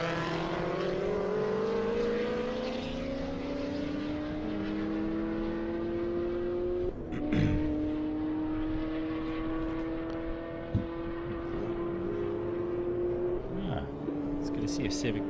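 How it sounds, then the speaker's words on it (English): A Honda Civic race car laps Circuit of the Americas during a time attack session, its engine note rising and falling through gear changes, moderately distant, under steady commentary. "See a Civic back out on the racetrack."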